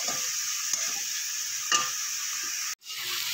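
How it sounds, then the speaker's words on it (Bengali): Onions frying in oil in a pan, a steady bright sizzle with a few scrapes of stirring and a brief cut near the end. "পেঁয়াজটা কিছুক্ষণ ভাজা ভাজা করে নেবো"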